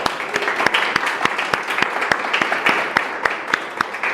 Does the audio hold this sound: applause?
yes